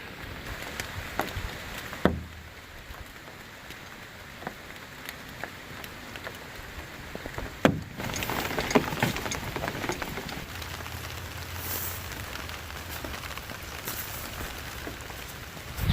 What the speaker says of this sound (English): It's raining just enough to have the umbrella out.